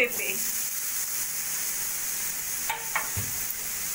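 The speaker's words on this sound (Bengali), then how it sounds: "পেঁপেগুলো দিয়ে ভালো করে মশলার সঙ্গে মিশিয়ে নেব।" Grated papaya stirred into spices frying in a pan for papaya ghonto, with a steady close hiss of sizzling oil and a few soft scraping stirs partway through.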